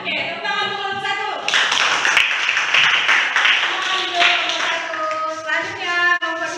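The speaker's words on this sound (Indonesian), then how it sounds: "tepuk tangan untuk kelompok 1" A classroom group claps for a team that has just presented, a dense burst of applause lasting several seconds with voices around it before it tapers off.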